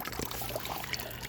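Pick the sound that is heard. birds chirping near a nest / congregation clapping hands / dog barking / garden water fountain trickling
garden water fountain trickling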